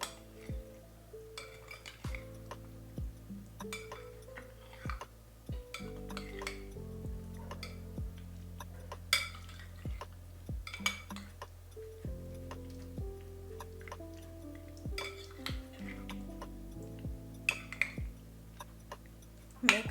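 Potato salad with onion being mixed in a bowl: a spoon clinks and taps against the dish in irregular light knocks over a low steady hum, quiet and close, with no talk.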